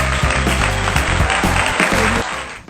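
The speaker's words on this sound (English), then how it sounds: "Please give them a round of applause." Studio audience applause greeting guests joining a talk show by online interview, a steady dense wash of clapping over a low music bed, fading slightly at the end.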